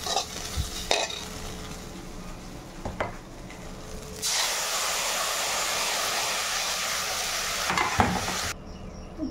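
Vegetables with tomato fry in a pan, giving a steady loud sizzle that swells partway through and then stops abruptly, with occasional utensil knocks.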